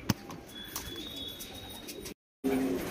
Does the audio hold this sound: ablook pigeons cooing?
yes